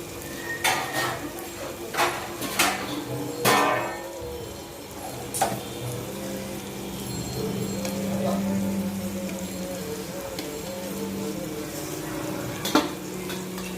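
Dal masala frying in a pan, a soft continuous sizzle with occasional clinks and taps of a utensil against the metal, close and moderately quiet, no talking.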